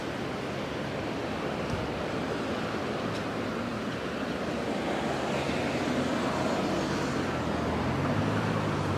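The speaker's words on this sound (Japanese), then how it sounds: "下の方川が流れてます。" A river flows far below a walking route near Yorii Station on the Chichibu Main Line in Saitama, giving a steady, broadband rushing wash that continues unbroken and fairly faint, with no talk over it.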